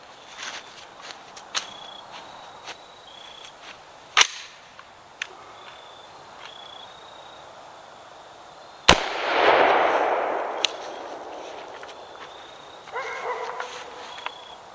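Gunshots fired into cheap Temu body armor, two sharp isolated cracks several seconds apart with a loud impact and brief rushing noise after the second, over faint outdoor background clicks.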